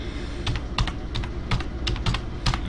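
Steady bursts of computer keyboard typing while entering a variable label in SPSS, close and fairly loud, roughly a dozen keystrokes in an uneven rhythm with no talking.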